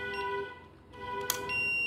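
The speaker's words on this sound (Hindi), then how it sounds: "ये लंबी बीप आ गई दैट मीन्स कि आप प्रोग्राम मोड में एंटर कर गए हैं" A ZKTeco X6/X7 biometric access control keypad gives a long electronic beep as it enters program mode. The steady tone is quiet and sounds alone in a still room, with a brief click near the end.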